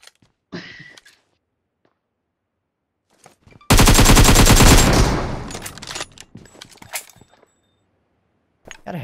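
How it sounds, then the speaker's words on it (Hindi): Sustained automatic gunfire from a shooter video game rattles loudly for about two seconds and then trails off, with scattered softer game sounds and clicks before and after. "यार हेड पे एम करके मारो फिर भी बंदे को गोली नहीं लग रही भाई"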